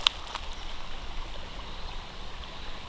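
A small creek running along a flowery bank on a spring walk in Michigan, a soft continuous trickle and burble at moderate distance, with a couple of brief faint clicks near the start.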